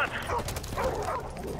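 A dog in Modern Warfare Remastered gives a couple of short yelps and whimpers in quick succession, mixed with game sounds, fairly close.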